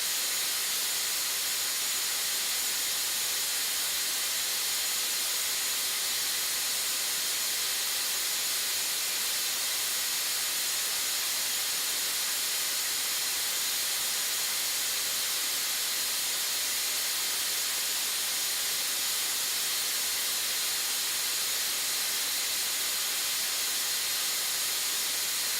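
A SmartPRV pressure relief valve vents at full rated flow with a loud, unbroken roaring hiss like escaping steam, holding steady and constant throughout with no pauses.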